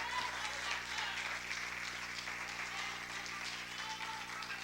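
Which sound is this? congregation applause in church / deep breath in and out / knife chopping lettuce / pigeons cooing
congregation applause in church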